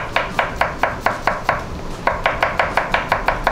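Garlic being sliced with a knife on a cutting board for a rib eye in cream sauce, heard as a steady run of about fifteen crisp, evenly spaced chops, close and clear with no talking.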